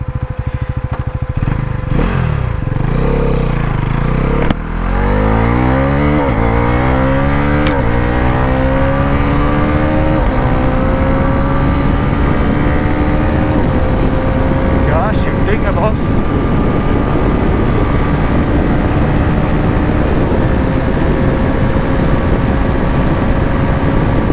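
A Bajaj Pulsar NS 350z motorcycle, a 350cc bike with a sports quickshifter, revs hard while being ridden, its engine note climbing through quick upshifts with brief dips, then holding a loud steady drone with wind rush throughout.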